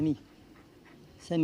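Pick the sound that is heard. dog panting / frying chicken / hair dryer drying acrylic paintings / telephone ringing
dog panting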